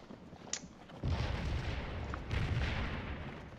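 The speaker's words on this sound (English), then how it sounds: "So they're all counter battery firing" Counter-battery artillery fire from 12-pound cannons in the Scourge of War battle game at Stones River: a short sharp report, then a broad rumbling boom at one second and another near two and a half seconds, fairly faint and without voices.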